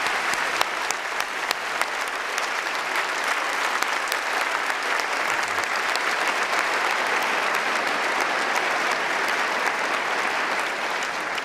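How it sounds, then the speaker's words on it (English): Sustained, loud clapping from a large debate-hall audience fills the room evenly for the whole stretch, a dense wash of hand claps with no talk over it. "a round of applause for our debaters"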